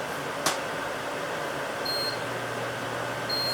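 A kitchen timer beside a jerky dehydrator gives short, thin beeps as it is set, two or three brief tones over a steady low machine hum, with a soft click near the start.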